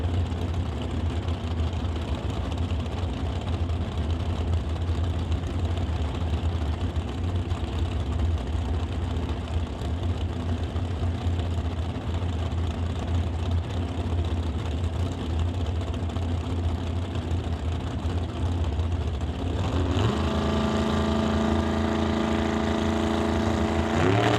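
A dragster sits at the start line of a drag strip, its engine idling with a low, rough rumble at a distance before a sharper, louder burst of revving near the end.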